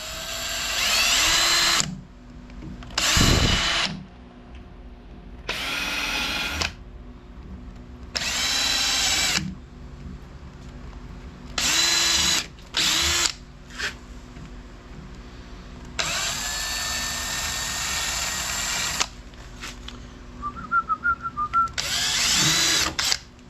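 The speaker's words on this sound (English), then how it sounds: "Take your 1/8 inch drill." An electric drill with a 1/8 inch bit whirs in repeated bursts on a workpiece held in a vise, starting and stopping a dozen times, some runs short and others several seconds long, close and loud.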